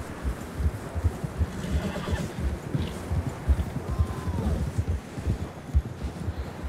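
A horse whinnies in Red Dead Redemption 2 over steady hooves and rustling background noise, the neigh rising and falling once in the middle.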